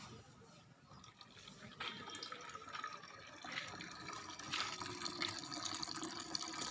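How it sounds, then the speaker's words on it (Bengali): Water runs from a leaky household tap, a faint, continuous trickle and splash that grows slightly louder partway through. "এটা হলো কল।"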